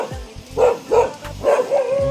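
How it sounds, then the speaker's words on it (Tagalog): A dog barks in a forest setting in the Philippines, a quick run of three or four sharp, moderately loud woofs with short gaps between them, close by and without speech. "May aso."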